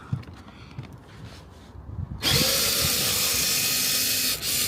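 Power drill driving a screw into decking over a rotten joist, whining steadily and loudly for about two and a half seconds after a quieter stretch of outdoor background.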